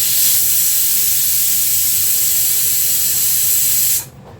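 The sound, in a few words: pressure cooker whistling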